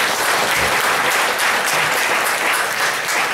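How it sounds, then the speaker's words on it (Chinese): Audience applause at a lecture in Taiwan, dense continuous clapping from a crowded hall welcoming a speaker, loud and even throughout. "咱今仔日主讲者，啊，咱的林志兴秘书长，咱掌声欢迎一"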